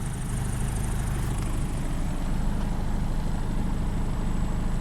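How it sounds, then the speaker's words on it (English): Jabiru aircraft engine fitted with Rotec liquid-cooled heads and a TBI, idling smoothly at about 750 RPM just after a dead-cold start, a steady close droning rumble with propeller whir, continuous and alone without talk. "So you can see it's idling nicely. And this engine has just started, literally, dead cold."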